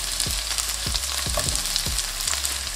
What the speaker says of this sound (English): Give that a mix and lightly saute.